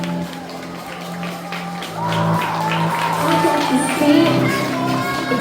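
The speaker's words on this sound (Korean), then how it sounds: "뜨거운 박수 부탁드립니다." Wedding guests cheer and shout during the bride and groom's march, a steady crowd din that swells louder midway and continues throughout, with possible clapping and excited voices mixed in.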